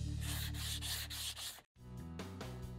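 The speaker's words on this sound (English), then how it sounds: "Now I'm just gonna sand it with 100 grit sandpaper, prime it and paint it." Sandpaper of 100 grit rubbed over a wood putty patch, a steady close scratchy back-and-forth rasp in rhythmic strokes, with a brief pause before the sanding resumes.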